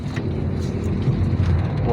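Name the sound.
Honda Mobilio 1500 cc automatic accelerating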